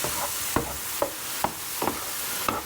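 Shallots and mushrooms sizzle in a pan while being stirred, a steady soft frying hiss broken by five or six evenly spaced scrapes and clacks of the spoon, close and with no talk.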